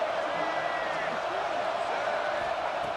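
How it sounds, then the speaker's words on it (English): Dense, roaring crowd noise fills a football stadium at Miami as fans push the defense for a red zone stop, a constant loud wall of cheering with commentary voices underneath. "This crowd is trying to inspire this defense to make a big red zone stop."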